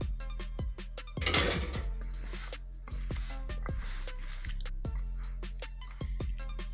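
Potato pakora batter with cornflour is stirred by hand as a little water goes in, giving a steady run of wet, squishy slaps and drips close by, repeating every half second or so with no talking.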